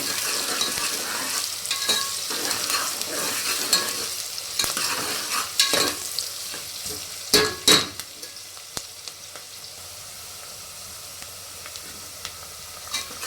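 Onions fry in a pan with a soft, continuous sizzle while a spoon stirs them in irregular scraping bursts, a few sharper knocks against the pan standing out before the stirring eases into quieter sizzling.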